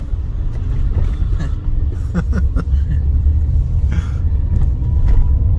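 A car climbing a small, steep, zigzagging mountain road in Pakistan, its engine a steady low rumble with road noise throughout and a few faint knocks, heard from inside the vehicle.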